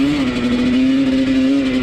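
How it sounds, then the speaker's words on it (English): A motorcycle engine runs with a steady, close, loud drone at a race line, holding an even pitch with slight wavering, and no talk over it. "Let's get this bike started and see what we can do here"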